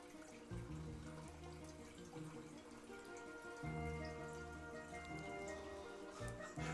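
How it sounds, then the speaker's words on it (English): Water trickles and splashes steadily into a cooking pot, a continuous gentle pour with faint low tones underneath and no talking. "I'm putting water in a pot, I promise."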